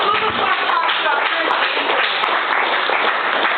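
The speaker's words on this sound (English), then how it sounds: "One more round of applause for Randy, everybody." A comedy club audience applauds a stand-up comedian, steady dense clapping filling the room at a constant level for the whole stretch.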